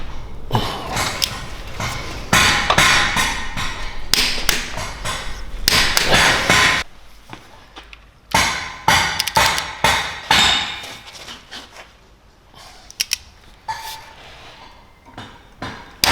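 Metallic clanks, taps and ratcheting knocks from a wrench working on the camshaft bolts of a BMW M62 V8 engine, coming in irregular close bursts with brief pauses, no talking.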